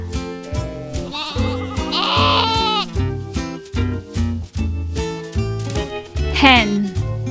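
Music plays with a voice imitating a sheep's bleat, a wavering baa repeated a few times over a bouncy tune.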